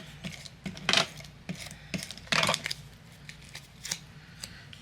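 Scissors trimming paper for a craft card project, a series of short crisp snips in irregular rhythm, close and fairly quiet, with two louder cutting strokes.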